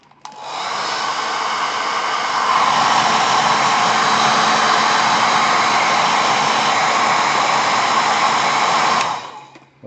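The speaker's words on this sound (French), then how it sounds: "On va lui mettre un petit coup de sèche-cheveux." A hair dryer blows steadily on a freshly painted Star Wars Legion stormtrooper miniature, a loud continuous whir that starts abruptly, holds for about nine seconds and then cuts off.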